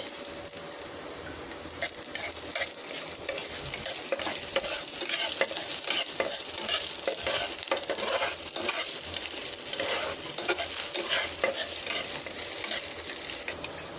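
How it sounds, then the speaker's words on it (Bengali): Sliced onion and sweet cumin fry in hot oil in a pan, a dense, continuous close-up sizzle with a bright hiss and scattered crackles, broken by faint stirring scrapes, with no one speaking. "আর পেঁয়াজটা ভাজা হয়ে গেছে"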